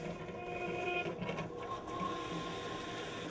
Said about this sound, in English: Flip the toggle switch on the front of the machine up to start the pump.